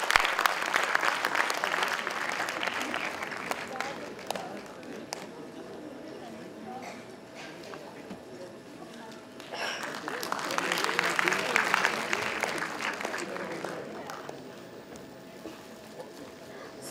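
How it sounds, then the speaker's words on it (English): An audience at an international conference applauds to welcome a speaker, clapping strong at first, easing to a lighter patter in the middle, then swelling again before fading, heard from within the hall. "A big round of applause, please, and a very, very warm welcome to you, sir."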